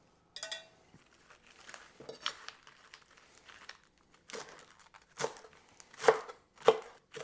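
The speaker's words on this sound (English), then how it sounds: "I have one head of romaine here. I'm just giving a nice slice through." A knife slices through a fresh head of romaine lettuce on a cutting board, giving a series of crisp crunching cuts that grow louder toward the end, close and with no talking.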